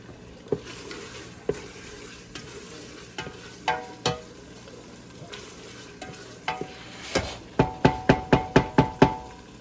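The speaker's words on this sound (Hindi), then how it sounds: "तो मैं इसको ऐसे ही 1-2 मिनट के लिए भून लेती हूँ ऑयल के साथ अपने चनों को" Chickpeas roasting in oil in a pan give a low continuous sizzle, broken by a spoon stirring and scraping, with the scrapes quickening into a rapid run of sharp knocks near the end; no voices.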